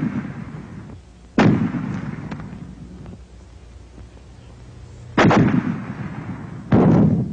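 Fragmentation grenades from American infantry combat detonate in three sharp, loud blasts, each a sudden bang followed by a rumbling decay, spaced unevenly with quieter background noise between.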